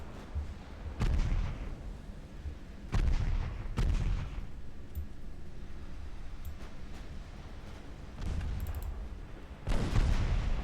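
Booming detonations in a naval battle in Ultimate Admiral Dreadnoughts, heavy low thuds at about 1, 3 and 4 seconds and again near 8 and 10, each with a rumbling tail over a constant low ambient bed, with no talk.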